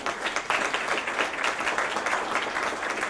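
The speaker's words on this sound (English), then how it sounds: "can you give him a round of applause?" An audience at a Minnesota meeting applauds Commissioner Myron Frans, a steady, dense wash of clapping from many hands, moderately loud and continuous throughout.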